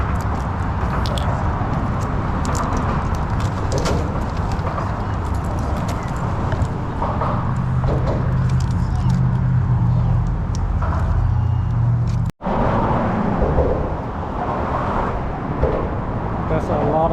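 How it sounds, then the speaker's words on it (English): Cars passing over the Causeway Bridge in Metairie, heard from beneath as a continuous rumbling traffic roar with rising and fading passes, briefly cut out once, with a voice talking partway through. "There's a lot of car sound passing through the bridge."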